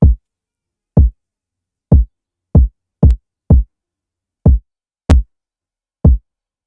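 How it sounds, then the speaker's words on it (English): Kick drum from a beat, a deep short thump repeated nine times at an uneven, slightly syncopated spacing, dry and close with silence between hits. "It's a kick"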